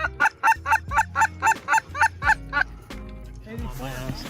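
Geese honk during an early season goose hunt in a North Dakota wheat field, a close, loud run of about ten rhythmic honks followed by softer mixed calls and faint background noise.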